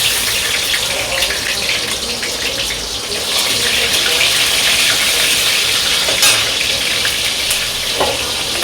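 Black cumin seeds and green chilli temper in hot white cooking oil with a strong, continuous frying hiss and crackle that holds steady throughout. A few sharper spits come through near the end.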